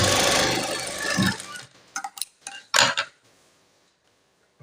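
A sewing machine stitching a blouse whirs briefly and close for about a second, followed by scattered clicks and knocks from handling the machine and fabric before quiet.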